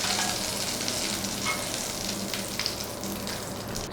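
Mutton chops fry in hot oil in a pan, giving a continuous close sizzle and crackle with occasional stirring sounds.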